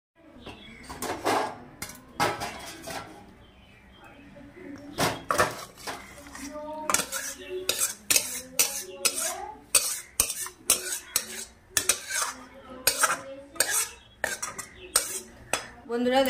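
Vegetarian jackfruit curry being tipped out of a pan, with repeated metallic scrapes and clanks of a spoon against the pan in an irregular rhythm, close and fairly loud, with a brief lull near the start.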